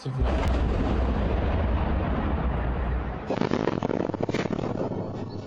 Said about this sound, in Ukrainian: У місті лунають перші вибухи